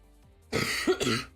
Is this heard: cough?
yes